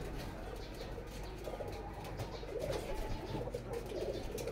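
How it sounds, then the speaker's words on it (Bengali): Pigeons at a village home coo softly in a low, steady murmur, with faint rustles and possible wing flaps mixed in and no one talking. "অনেক সুন্দর এই কবুতরগুলো"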